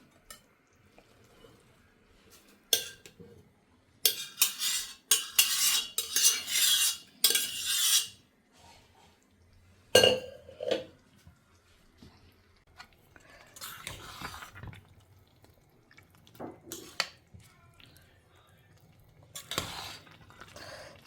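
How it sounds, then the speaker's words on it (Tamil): Cooked rice is mixed into kuzhambu in a metal pot with a spoon, heard as bursts of scraping, clinking and soft squelching strokes separated by quiet gaps, close and intermittent. "இந்த சாதத்தை இதோட மிக்ஸ் பண்ணிவிட்டு உங்களுக்கு அப்புறமா காமிக்கிறேன்."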